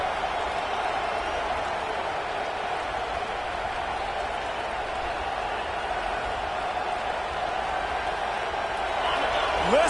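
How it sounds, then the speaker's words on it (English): Dense stadium crowd roar from a College Football 26 game, a steady sustained wall of cheering throughout with a slight swell near the end, under commentary talk. "Listen to this crowd just shaking the girders of this place, trying to help their defense."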